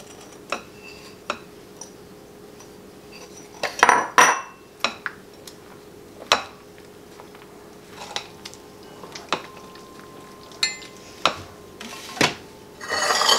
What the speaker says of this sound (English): we're going to stir in our chunks of bread.